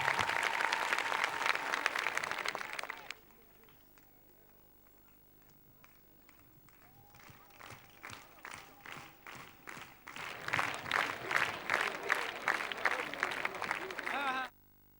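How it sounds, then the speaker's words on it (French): Applause at a UMP political convention for a party president, starting as a loud burst of clapping that fades to quiet, then building again into strong rhythmic clapping from the crowd before cutting off. "Applaudissez, s'il vous plaît."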